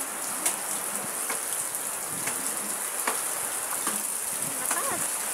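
Heavy rain with wind hisses down on surfaces with occasional louder drips, a constant wash of noise at moderate level and no clear talking.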